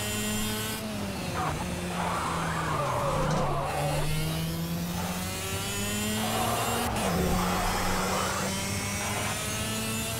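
Kart engines race in Project Cars, a steady buzzing drone whose pitch climbs and dips as the karts rev and shift, loud and continuous for the whole stretch.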